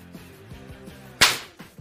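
Egg bursting under a 3000 volt plasma ray: low electrical buzzing and crackles lead to one sudden, sharp loud pop that fades quickly, followed by a few softer crackles.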